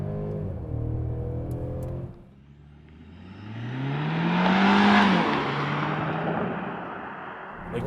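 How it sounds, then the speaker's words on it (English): A 2024 Mercedes CLE 300 goes to full throttle from inside the cabin: an upshift first, then the engine note climbs steadily and loudly, peaks, and settles into a steady high-speed roar. "Just gonna floor it."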